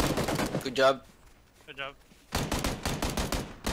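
Gunfire in the Miscreated survival shooter, bursts of rapid close shots at the start and a dense volley near the end, with brief speech in between.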